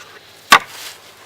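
A single sharp chop as an axe or knife makes the finishing cut on a wooden paddle shaft, one loud close crack in otherwise quiet surroundings.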